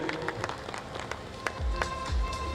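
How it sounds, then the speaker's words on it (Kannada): Scattered hand claps from an audience at the Gandhadagudi Premier League event, uneven and moderately close, with a low rumble and crowd murmur swelling toward the end. "ದಯಮಾಡಿ ಚಪ್ಪಾಳೆ ಮೂಲಕ ಎಲ್ಲರೂ ಪ್ರೋತ್ಸಾಹಿಸಬೇಕು."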